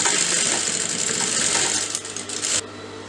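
A sewing machine stitches a side seam on a boat-neck designer blouse, running in a steady continuous whir with fast rhythmic needle clatter before stopping abruptly near the end.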